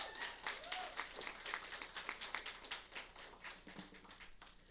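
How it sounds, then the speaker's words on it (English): Faint applause for Darci fills the room, a patter of many hands clapping at a steady pace for a few seconds before tapering slightly. "How about another round of applause for Darci?"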